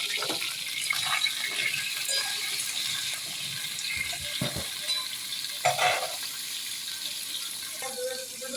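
Pointed gourd pieces fry in a pan with a steady sizzle while a spatula stirs them, scraping and clicking now and then against the pan.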